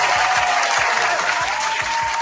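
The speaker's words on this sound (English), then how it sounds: "let us give y'all an applause" Steady applause fills the short stretch at an even level, with a faint low rhythmic beat pulsing underneath, likely a soundtrack for a sports podcast intro.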